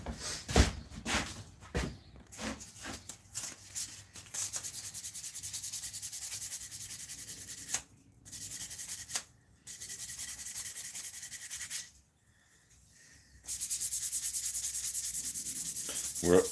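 A knife blade is sanded by hand with 600 grit abrasive, giving repeated close scraping strokes in a steady rhythm with a few brief pauses, and no one speaks.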